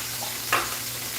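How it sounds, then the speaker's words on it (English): Chicken frying in leftover grease in a pan, heard as a steady close sizzle with a brief bright crackle partway through and no voices. "That was the chicken sizzling."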